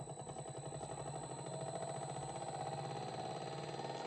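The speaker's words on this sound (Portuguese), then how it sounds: "E ele está fazendo a rampa aqui para mudar a rotação do meu motor." An electric motor driven by a Delta variable-frequency drive changes speed on a ramp, giving a steady close mechanical hum and rattling drone with a slight rise in pitch and intensity.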